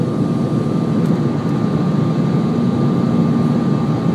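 A Cebu Pacific Airbus A320 jet climbing out after take-off from Roxas, heard from inside as a steady, loud, broad engine roar with a low rumble and no change in level.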